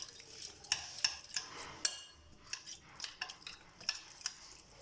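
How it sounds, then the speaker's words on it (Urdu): A spoon stirs a marinade of soy sauce, red chili and ginger-garlic paste in a bowl for fried chicken, with soft, irregular scraping and clinking strokes, close and quiet, no talking. "اب اسے مکس کر لیتے ہیں اچھے طریقے سے۔"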